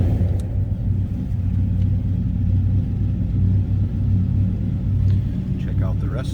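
A 1966 Dodge Charger with a 5.7L Hemi V8 idles with a steady low rumble, close by, with faint clicks and brief muffled voice sounds near the end.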